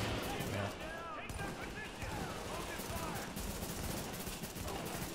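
Gunfire in The Division as a squad shoots at a boss, dense rapid shots and bursts running steadily through the clip under background game noise.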